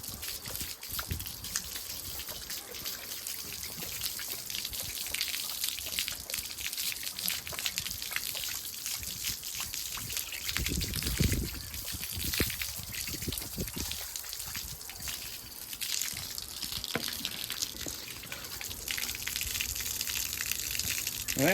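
Water gushing and trickling out of a port in an engine block during cleaning, a steady close splashing flow with surges, lasting throughout.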